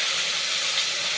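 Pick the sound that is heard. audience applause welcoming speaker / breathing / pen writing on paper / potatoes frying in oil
potatoes frying in oil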